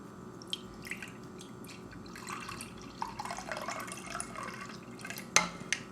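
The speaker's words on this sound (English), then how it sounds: "I'm gonna pour myself some wine to go along with it" Wine poured into a glass, heard as soft trickling and dripping liquid over a steady background hum, ending with a brief clink of glass.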